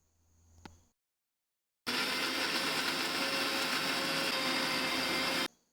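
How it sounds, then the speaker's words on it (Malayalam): A kitchen mixer grinder runs loud and steady for several seconds, grinding garlic, shallots, grated coconut and water into a paste, then stops abruptly. A brief clink comes just before it starts. "കുറച്ച് വെള്ളമൊഴിച്ച് ഇത് നന്നായി അരച്ചെടുക്കണം"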